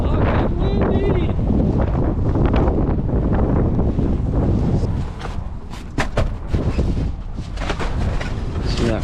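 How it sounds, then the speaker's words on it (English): Strong wind buffets the microphone outdoors at the start of a ski season, a loud continuous low rumble with gusty surges, while someone talks over it. "Holy shit, it's fucking windy!"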